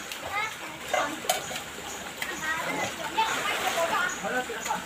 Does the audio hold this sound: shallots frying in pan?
no